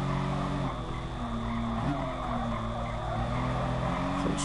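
Porsche 911 RS tires sliding and squealing in Gran Turismo Sport at the Fuji circuit, a steady engine drone with wavering tire squeal rising and falling through the corner, close and continuous.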